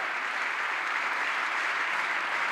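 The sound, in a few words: congregation applause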